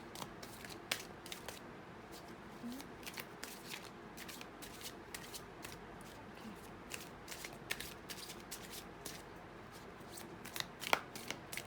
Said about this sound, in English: I'm going to pick up 3 more cards